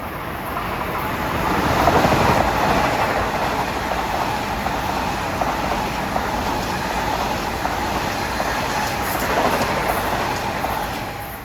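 An LIRR commuter train from Ronkonkoma to Grand Central rolls past Forest Hills station during the morning rush, a steady broadband rumble and rush of wheels that holds for the whole stretch with no speech.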